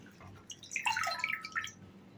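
Fenugreek leaves being washed by hand in a bowl of water give soft, close splashes and drips that swell briefly in the middle and then fade, with no one speaking.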